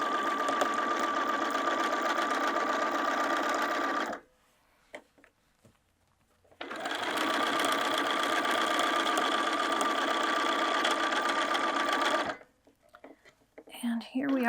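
A sewing machine runs a 3/8 inch side seam on a town bag, starting with a short back tack: a steady, loud hum for about four seconds, a pause, then a longer continuous run before stopping.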